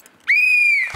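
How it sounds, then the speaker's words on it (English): A single loud, sustained whistle blast at a sports day race start, a steady shrill tone held for about half a second before cutting off. "the race begins when you hear the whistle"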